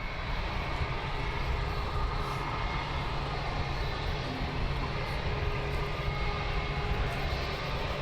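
An EasyJet airliner taxis out at London Luton Airport, its jet engines giving a steady, broad roar that holds level at a moderate distance throughout, with no voices.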